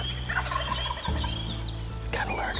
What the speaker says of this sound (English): It's tempting though when you hear them gobbling like this off the roost.